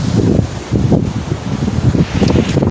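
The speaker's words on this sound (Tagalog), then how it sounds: "Ang lakas ng hangin mga kapayaso." Strong gusty wind blows hard against the microphone outdoors by the sea as a storm approaches, a loud low buffeting roar that surges and eases in repeated gusts.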